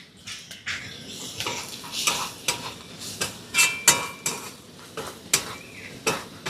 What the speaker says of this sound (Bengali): মশলাগুলো দিয়ে একটু হালকা করে নেড়ে নিয়েছি।